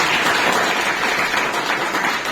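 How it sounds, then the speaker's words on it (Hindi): Congregation at a Hindi-speaking Christian testimony service claps hands in a dense, steady patter, a brief burst of group applause filling the room at moderate volume. "ताली बजाइए ना।"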